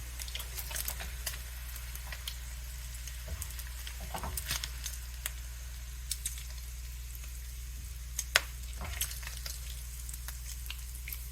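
Bacon fat frying in a wok, a steady low sizzle with light crackles and occasional louder pops, close and alone with no talking.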